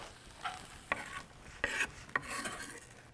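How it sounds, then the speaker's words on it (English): Onions sautéing in olive oil being stirred, quiet hiss with several brisk scraping strokes of a utensil across the pan, close and soft. "let's give it a little stir"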